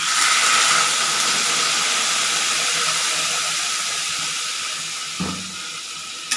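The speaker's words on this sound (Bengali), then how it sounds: "এই যে জল ঢালছি" Water poured into a hot pan with a fish head, mustard paste, ginger-garlic paste, coriander and turmeric, a loud steady hiss of steam that slowly fades, with a brief clatter near the end.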